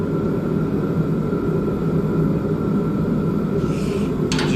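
A Zooma machine's engine holds a steady, loud drone with a low rumble throughout, and throttle changes stay subtle; no talk over it.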